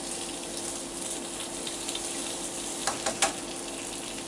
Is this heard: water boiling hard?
yes